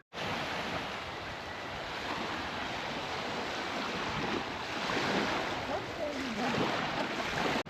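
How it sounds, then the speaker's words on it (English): Waves roll in at White Beach on Tasmania's Tasman Peninsula. A continuous, full surf roar mixes with gusting wind buffeting the microphone, loud and close for the whole stretch. "Some say this is the warmest beach in Tasmania. It's White Beach."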